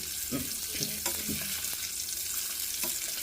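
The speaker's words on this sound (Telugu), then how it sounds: "పోపు అయితే వేస్తున్నా పోపు వేగుతుంది" Spiced tempering sizzles and crackles steadily in hot oil for an amla (Indian gooseberry) pickle, with a few sharper pops and stirring scrapes near the start, close and continuous throughout.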